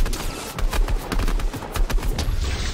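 Rapid bursts of gunfire in the battle royale game Fortnite, a dense string of loud, closely spaced shots and booms rolling on without a break.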